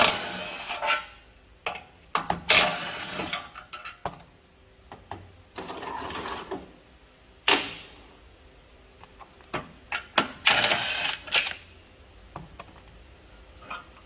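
Bolts on the muffler of a Quasar-engined scooter such as the Easymax or XDV250 are being loosened with a hand tool, giving a series of short metallic ratcheting and clicking bursts with pauses between them. The sounds are close, and no one speaks.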